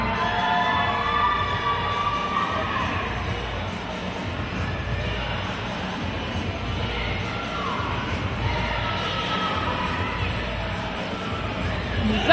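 Roller derby crowd cheering for the Hilltop Aces during a 2011 bout, a steady wash of voices and shouts at moderate level with no clear peaks.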